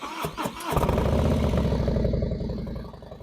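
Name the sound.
Harley Low Rider S motorcycle with Bassani 4-inch slip-on muffler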